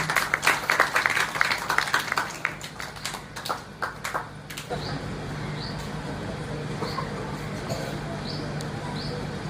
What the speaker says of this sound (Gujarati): આપણે તાળીઓથી વધાવીશું.